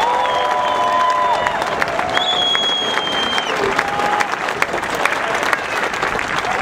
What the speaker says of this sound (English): Let's give Staff Sergeant McClendon a round of applause.